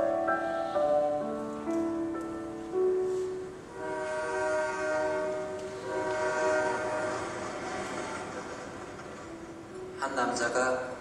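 A train runs along rails with a long sustained horn blast, a rumbling rolling drone underneath and a fresh burst of horn near the end, played from a film with a voice talking over it.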